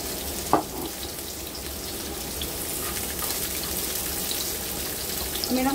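Vegetables (onions, peppers, baby corn, mange tout, carrots and bean sprouts) sizzle steadily in a hot wok with a constant frying hiss, broken by an early clatter of stirring.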